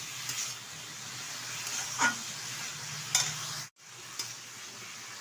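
Radish curry with chopped coriander and slit green chillies being stirred in a pan, a faint low sizzle with a few soft scrapes and clinks of the spatula, close and without speech.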